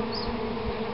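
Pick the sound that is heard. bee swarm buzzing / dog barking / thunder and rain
bee swarm buzzing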